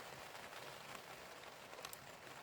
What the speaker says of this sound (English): we've come back to the sanctuary of the polytunnel because it's raining